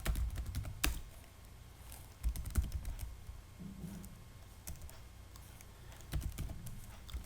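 Typing on a computer keyboard while entering text into a Microsoft Access form, heard as irregular clusters of soft, close key clicks with short pauses, steady and quiet throughout.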